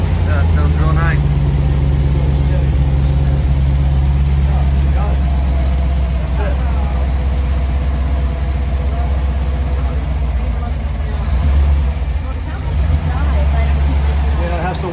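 A 1957 Ford Thunderbird's engine idles steadily as it warms up, a loud, close, low rumble running throughout while people talk over it.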